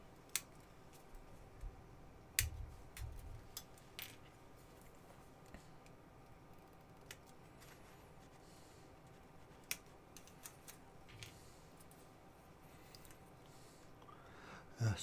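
Plastic model kit parts for a 1/35 scale HobbyBoss build being snipped off the sprue, sharp isolated clicks at irregular intervals in a quiet room, close and crisp.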